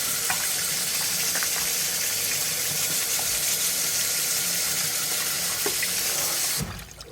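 Steady stream of water running from a tap into a sink, continuous and close, cutting off abruptly near the end.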